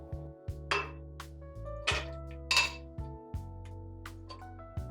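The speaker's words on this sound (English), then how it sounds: "Place 1 cup of frozen pineapple into a blender." Frozen pineapple chunks dropped into a blender jar for a frozen cocktail, a series of hard clinks and knocks against the container, irregular and close over a low hum.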